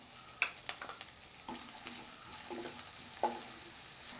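Chopped onion frying with ginger and garlic for a leftover rice dish, a quiet sizzle punctuated by several sharp clicks and spatula taps on the pan, no talking.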